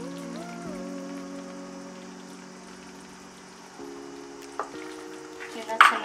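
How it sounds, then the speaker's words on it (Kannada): Tamarind juice poured into half-cooked bitter gourd gravy sets off a steady sizzle and frying crackle, with a sharper burst of spattering near the end; no one speaks. "ಇದಕ್ಕೆ ನಾನು ಹುಣಸೆ ರಸನ ಹಾಕುತ್ತಾ ಇದ್ದೀನಿ."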